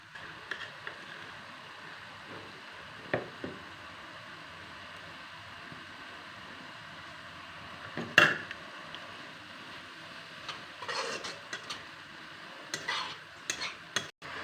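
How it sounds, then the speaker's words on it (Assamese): Ginger-garlic paste and spices stirred in a pan in an Assamese home kitchen, with a faint steady scraping and sizzle, a few louder utensil clinks and knocks against the pan, and no voices. "দি পেলাই অলপ লৰাই দিম"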